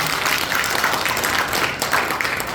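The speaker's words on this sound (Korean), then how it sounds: "박수 한번 치십시오" Audience clapping at a 2023 New Year workshop, a dense, steady patter of many hands lasting a few seconds with no speech over it.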